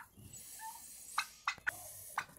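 Turkeys grazing in an olive field give several short, sharp gobbling calls at irregular intervals, moderately close against quiet outdoor background.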